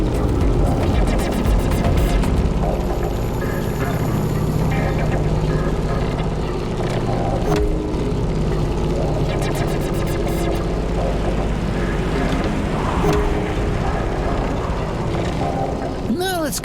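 A propeller plane drones steadily in The Crew Motorfest racing game, a loud continuous engine hum that holds throughout with slight shifts in pitch, while someone talks over it now and then.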